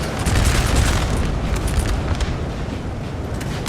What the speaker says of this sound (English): Some close firing volleys going off here.